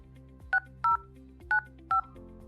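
Four crisp telephone keypad tones beep in quick succession as an access code is entered into an automated phone system, each short and loud over a faint background hum.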